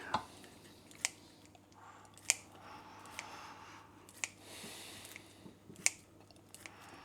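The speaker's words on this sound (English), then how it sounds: "Bacon, scissors, chop it up, get it in there." Scissors snipping through a packet of bacon medallions into a dish, giving several sharp, separate clicks spaced about a second apart over a quiet kitchen background.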